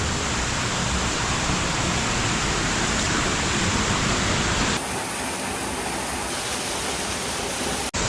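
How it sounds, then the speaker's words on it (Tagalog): The Tipakan river in Laguna flows in a steady, loud broadband rush close to the microphone, holding constant for most of the stretch before the low rumble thins slightly near the end, with no voices. "ito yung ilog Tipakan"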